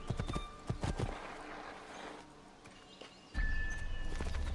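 Horse hooves clip-clop in Assassin's Creed 2, a quick run of close, sharp hoofbeats followed by a pause and then a louder steady rumble of movement, with a brief whinny-like tone.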